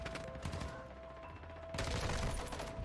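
Dense, crackling bursts of decoy grenades in Call of Duty DMZ mimic gunfire, rattling steadily at moderate distance and then swelling louder and closer in the final second.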